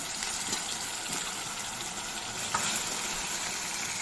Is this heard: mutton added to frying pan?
yes